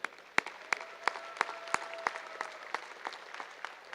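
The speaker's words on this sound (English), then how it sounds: "let's give all these young people a big round of applause" Light, scattered clapping for young exhibitors in the junior cow classes at the World Dairy Expo, distant and thin in a large hall, with a faint tone running underneath.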